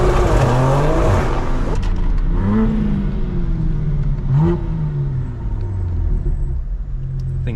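A BMW M4 G82 with its S58 engine and a full Valvetronic exhaust revs loudly nearby, rising and falling in several throaty blips over a deep rumbling idle.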